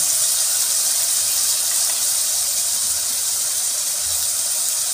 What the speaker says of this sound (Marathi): तर मटकी भाजून घेऊया आपण. त्याच्यात थोडी हळद टाकूया